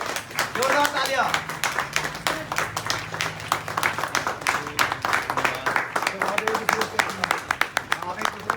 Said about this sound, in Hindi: जोरदार तालियां होनी चाहिए दोस्तों, जोरदार तालियां